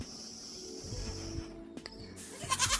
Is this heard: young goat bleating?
yes